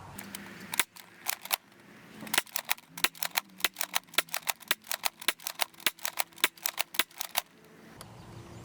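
A Buzz Bee toy dart blaster firing a rapid series of about twenty sharp clicking pops outdoors, quick irregular bursts close to the microphone, ending abruptly.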